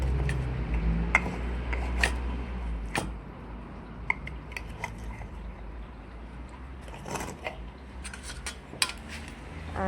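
Seasoned boiled plantain stirred and lightly mashed in a pot, with scattered clinks and scrapes of a utensil against the metal over a low steady background hum.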